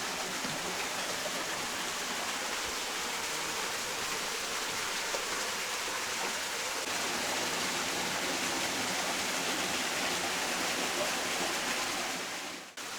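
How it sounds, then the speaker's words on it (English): A waterfall tumbles into a quiet pool beneath the cliffs of a Karijini gorge in Australia. Its broad, steady rush is close and continuous and cuts off abruptly at the end. "A quiet pool tucked beneath the cliffs, with a waterfall tumbling down behind us."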